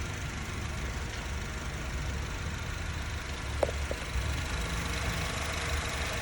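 A Honda Civic FD 1.8 automatic sits idling with a steady, even low hum, smooth and continuous, with a faint brief click partway through and no voices.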